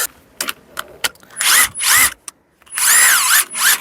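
An impact wrench loosening the 13 mm cover bolts on a mini excavator's travel motor, firing in several loud, close rattling bursts separated by short clicks and pauses.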